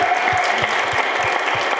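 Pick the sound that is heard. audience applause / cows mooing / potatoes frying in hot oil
audience applause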